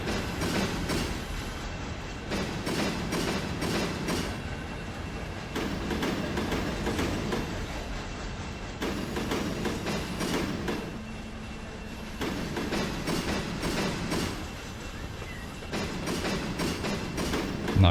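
A freight train hauling rock rolls on rails in the Run 8 Train Simulator game, a continuous rumble with rhythmic clickety-clack surges and a faint wheel squeal, steady and moderately loud with no talk.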